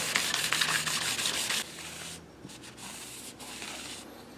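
Sandpaper rubbing an acrylic resin guitar inlay at 1000 grit, a close, steady scratchy rasp for the first second and a half, then lighter and quieter strokes that trail off.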